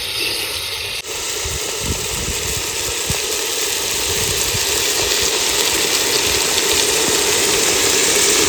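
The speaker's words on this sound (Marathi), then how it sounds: "आपलं वाटण वाटायचं चाललंय." An electric mixer grinder whirs continuously while blending a spice paste for a chicken dish, a dense steady drone with rattling that starts abruptly after a brief pause and stays loud and close throughout.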